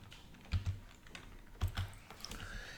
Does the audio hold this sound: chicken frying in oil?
no